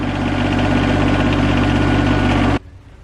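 An RK25 compact tractor engine idles loudly and close, a steady low mechanical drone with a slightly uneven, wobbly rhythm that cuts off abruptly near the end.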